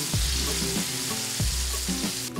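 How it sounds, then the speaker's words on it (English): Tomato puree sizzling in hot oil in a paella pan in Valencia, Spain: a steady, close frying hiss with two sharp bursts as the puree hits the oil, and no talk. "Add tomato puree."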